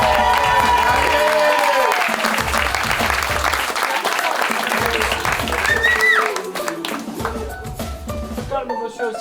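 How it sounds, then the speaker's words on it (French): Wedding guests at a domaine in Trets break into loud, sustained applause mixed with cheers, and voices carry over the clapping before it thins out. "Plus d'applaudissements pour Lucie que pour Laurent."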